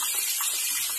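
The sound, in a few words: washing urad dal in water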